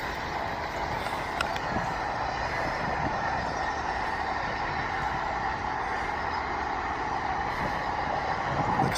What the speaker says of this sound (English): That's the sugarcane train.